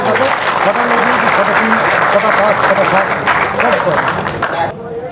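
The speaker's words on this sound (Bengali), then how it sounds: "সবাই একটু জোর করে হাততালি দেবেন।" Audience applause at a prize distribution ceremony in Bengal, a dense, loud wash of clapping from a large crowd that runs steadily for about five seconds before thinning abruptly at the end.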